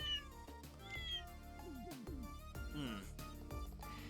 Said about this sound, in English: Why are you meowing like that?